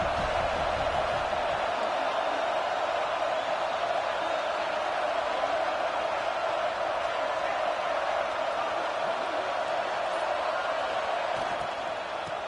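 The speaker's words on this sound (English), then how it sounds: "This crowd ready to make its presence known." A football stadium crowd at a college game, Florida State at Florida, gives off a loud, steady roar that holds without a break for the whole stretch, with no distinct voices standing out.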